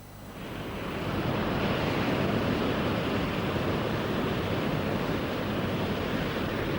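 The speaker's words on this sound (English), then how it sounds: "This is the Pacific Ocean." Pacific Ocean surf rolls onto a California beach, a steady full roar of breaking waves building over the first second and then holding loud and continuous, with a windy rush and no voices.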